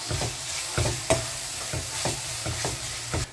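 A utensil scrapes and stirs a thick raw green masala mixture for mutton curry in a frying pan, rhythmic strokes about twice a second over a soft sizzle.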